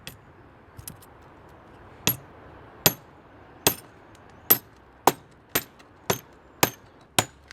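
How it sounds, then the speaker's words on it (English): The end of a sledgehammer whacks a part into place while new forks are fitted: about eight sharp metallic strikes, loud and close, spaced roughly every half to one second over a quiet background. "what I like to use is this. It's the end of a sledgehammer. Whack it in."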